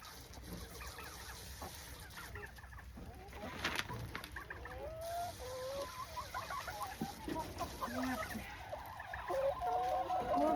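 Backyard farm chickens cluck in their coop, a mix of hens clucking steadily and an occasional rooster call, with a near, moderately loud, continuous chorus of fowl sounds throughout.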